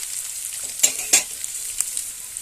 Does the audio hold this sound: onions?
yes